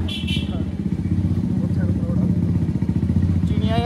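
A motorcycle engine runs steadily at close range with a low, throbbing idle that persists throughout, while someone talks over it and a few brief higher whines appear near the end.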